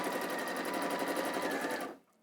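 A sewing machine runs free-motion stitching around the edges of a Christmas star, a fast steady whirring hum with rapid needle ticks that stops abruptly near the end.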